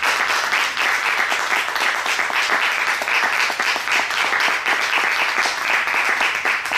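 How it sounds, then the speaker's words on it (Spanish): Sustained audience applause for the speakers at a talk on crime in the virtual world, dense steady clapping from a crowd filling the whole stretch without pause. "un aplauso a nuestros ponentes que tan brillantemente están haciendo"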